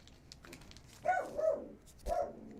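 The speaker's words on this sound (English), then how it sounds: "My dog's barking at a bear." A dog barks at a bear outdoors, two or three short barks spaced apart, faint and somewhat distant against a quiet background.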